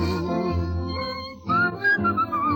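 Someone whistles a melodic tune, the notes sliding up and down over soft instrumental accompaniment.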